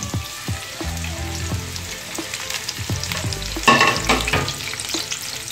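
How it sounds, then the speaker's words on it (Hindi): Finely chopped onion sizzles and crackles in hot oil, with loud stirring scrapes and clatters and a sharp surge of frying when the onion goes in partway through. "दूसरी साइड मैंने ऑयल गरम कर दिया है और अब इसमें मैं कट की हुई जो मैंने बारीक प्याज रखी थी वो मैं डाल दूँगी"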